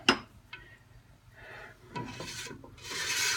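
A rubber spatula scrapes around the sides of a pot holding a melting cocoa and butter mixture, giving a few short rasping strokes and then a longer, louder scrape near the end.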